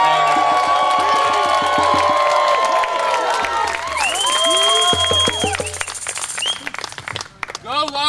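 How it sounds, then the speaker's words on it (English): Wedding guests applaud and cheer for the couple amid layered music and voices, with shouts and whoops mixed in and the clapping fading toward the end. "Let's give Becca and Lowki one more round of applause."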